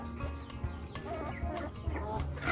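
Hens cluck softly and intermittently amid a busy farmyard background, with short pecking sounds at watermelon feed and scattered calls close by.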